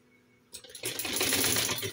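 A sewing machine runs at a steady clip, stitching a curved fabric strip for a baby frock. The motor kicks in after a short pause and hums continuously with a rapid needle clatter, close and fairly loud, with no speech.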